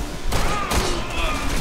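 Gunfire in Resident Evil 6, a dense rattling volley of loud close shots layered with game effects, continuous through the short moment.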